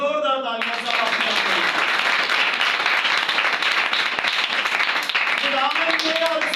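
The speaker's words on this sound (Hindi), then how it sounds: "जोरदार तालियां सब अपने" A church congregation breaks into loud, sustained clapping that holds steady for several seconds, with a preacher's voice heard just before it starts and again as it ends.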